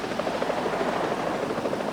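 A helicopter assists the salvage of the stranded tanker Sea Empress amid storms and tugs, its steady rotor thrum and engine roar filling the air continuously without speech.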